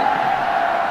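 A football stadium crowd roars in a brief, continuous burst of cheering, a broad, steady wall of voices heard at a distance.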